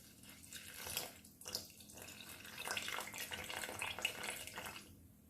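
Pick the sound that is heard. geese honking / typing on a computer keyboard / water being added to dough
water being added to dough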